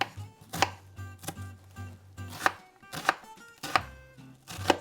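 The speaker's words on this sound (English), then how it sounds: "I'm just going to cut the onion like I normally do because it's all going into the food processor" Knife chopping onion on a cutting board for salsa, a run of sharp, close thuds in an irregular rhythm with short pauses, no voices.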